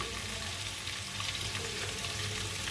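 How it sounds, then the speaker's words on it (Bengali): Soaked soybean chunks fry in a pan alongside potatoes and paneer, producing an even, continuous sizzle with faint crackle at moderate loudness and no voices. "পনির এই সোয়াবিনটা দেবো, দিয়ে একটু ভাজা ভাজা করবো"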